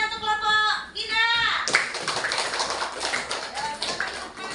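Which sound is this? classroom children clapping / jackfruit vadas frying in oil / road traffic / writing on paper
classroom children clapping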